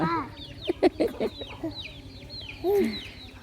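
Chickens cluck close by in a rural Tamil home-cooking setting, with a run of sharp, irregular clucks and a longer drawn-out squawk near the end, loud over a soft hum of background noise.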